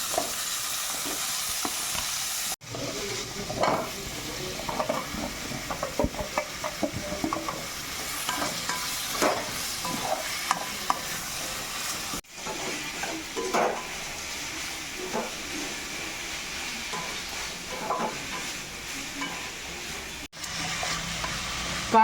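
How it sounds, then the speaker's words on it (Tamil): Vegetables sautéing in a pan for sambar give off a steady sizzle and hiss, with the scrape of occasional stirring, close up and continuous. No one speaks. "காயெல்லாம் நல்லா வதங்கிட்டு இருக்கட்டும்."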